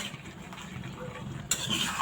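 Pieces of chicken fry in a pan while being stirred, a low steady sizzle with soft scraping that brightens into a louder hiss near the end, close up with no speech.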